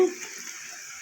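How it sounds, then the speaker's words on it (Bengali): Potatoes frying in a pan with a little salt and turmeric, a steady close hiss and sizzle lasting the whole second, alone without talk. "আলুগুলো আমার ভাজা হয়ে গেছে"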